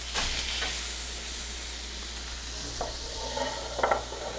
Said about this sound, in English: when your meat hits the pan